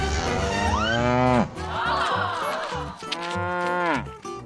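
A cow lets out two long, loud, close moos, the first rising and falling over about a second and a half, the second drawn out longer, with no talk.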